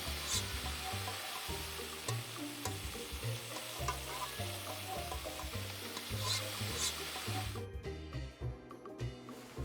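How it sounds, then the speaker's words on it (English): Tomatoes and egg stir-fried in the video game Immortal Life, a steady game sizzle and stirring loop over low background music, cutting off abruptly near the end. "We put them in with the egg. And then stir fry again."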